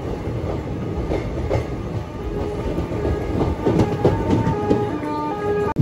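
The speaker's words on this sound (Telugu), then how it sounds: "కాచిగూడ నుంచి బయలుదేరింది మన ట్రైన్" An Indian passenger train, the Aurangabad Guntur Express, pulls out of Kacheguda station, its steady rolling rumble and wheel clatter loud and continuous throughout, with faint rail squeals over the drone and no voices.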